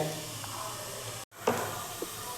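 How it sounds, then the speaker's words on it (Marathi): Carrots in ghee steam in a covered pan over a low gas flame, giving a soft, continuous sizzling hiss that breaks off for an instant and then resumes, with a couple of faint knocks. "गाजराला आपण झाकण ठेवूया बारीक गॅसवर छान वाफ यायला पाहिजे म्हणजे गाजर शिजेल आपलं"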